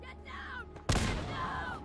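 A single loud shotgun blast in Fallout 4 lands midway after a quieter stretch, its sharp report ringing out briefly over background game sounds.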